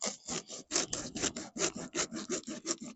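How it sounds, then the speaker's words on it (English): Hand sawing through a compressed eco-friendly fire log, about an inch off the end: a steady series of rasping back-and-forth strokes, close and fairly loud, with no talk. "if you just cut a little bit off, saw it down about 1 inch of it"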